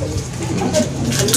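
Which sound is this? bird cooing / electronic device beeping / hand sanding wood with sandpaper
bird cooing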